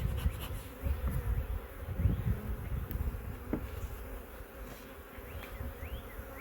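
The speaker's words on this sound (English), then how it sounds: "There are definitely more bees coming and going from this Nuc box." Steady buzzing of many honey bees close by around a nuc hive box, a dense droning hum with individual bees zipping past, no talking.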